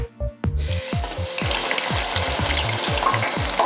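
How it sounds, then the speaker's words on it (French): Loud, steady sizzling of potato nests deep frying in hot oil, a dense crackling hiss that starts abruptly and continues, with faint clinks and thuds underneath. "Il suffit maintenant de les mettre dans la friture."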